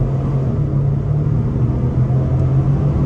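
A 2024 Ford Expedition Max XLT pulls hard under full throttle in sport mode, its engine a loud, steady, droning roar with a strong low tone that holds evenly throughout, with no talking.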